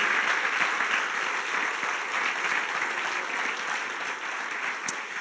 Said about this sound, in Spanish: Damos un aplauso al que vive